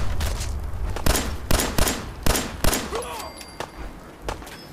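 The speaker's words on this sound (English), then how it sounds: "I'm just gonna use my regular pistol." Pistol fire in Fallout 4: about eight sharp, close shots at an irregular, fairly quick pace, loud over a low background rumble, with a brief voice in between.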